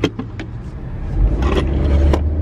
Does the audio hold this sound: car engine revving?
yes